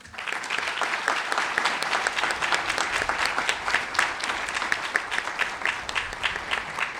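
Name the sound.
audience applause for public works staff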